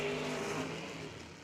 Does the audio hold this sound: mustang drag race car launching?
yes